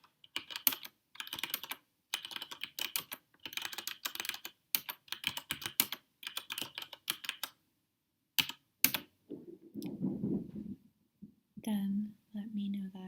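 Quick bursts of clicky keystrokes on a mechanical keyboard, typed in close, crisp clusters with short pauses, followed by a few seconds of soft whispered speech near the end.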